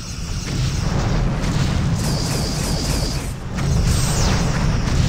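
Star Trek Bridge Commander space combat between an NX Refit and a Romulan Warbird: loud, continuous weapons fire and booming explosions with whining phaser-like tones and creaking mechanical rumble.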